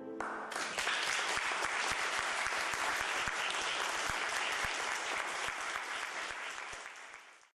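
Strong, dense applause from a concert audience, steady and close with sharp individual claps standing out, tapering off at the very end.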